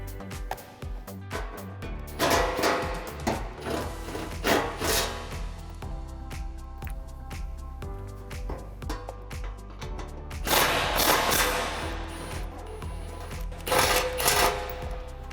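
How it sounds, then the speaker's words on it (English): A 12mm socket wrench loosens the last front skid plate bolts on a 2016-2022 Toyota TRD. Close, loud ratcheting and metallic scraping come in several bursts over a steady background hum. "so we got our 12mm, and we're gonna remove the last 2 remaining bolts"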